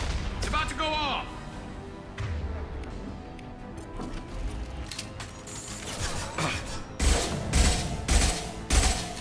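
Explosion bursts in the Mass Effect 2 video game, a run of loud broadband blasts in the final seconds following busy combat noise, with gunfire-like crackle and voices talking over the action.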